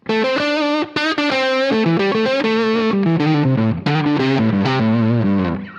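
A distorted electric guitar played with a slide through a neck humbucker plays a run of sustained, singing notes with smooth sliding pitch changes, loud and continuous, with no voices.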